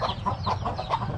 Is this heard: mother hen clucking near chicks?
yes